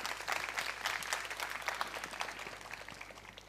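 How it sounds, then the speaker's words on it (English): Sustained audience applause after a software testing conference talk, a dense wash of many hands clapping at moderate distance, fairly faint and steady before gradually easing off. "A round of applause, please."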